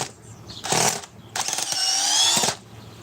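An 801 drill run at speed 2 gives two close, loud bursts of whining motor noise, a short one and then a longer sustained one, with quiet gaps between.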